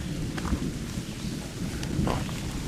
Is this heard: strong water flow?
no